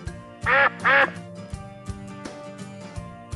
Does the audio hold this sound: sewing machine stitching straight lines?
no